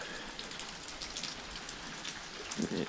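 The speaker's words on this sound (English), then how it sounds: "Rain, been raining all night." Rain that has fallen all night patters steadily on surfaces nearby, a soft continuous hiss with scattered drops, quiet and unbroken by talk.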